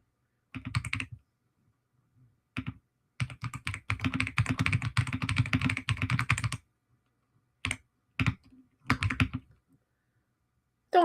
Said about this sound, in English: Oh, yes, me and my typing away here.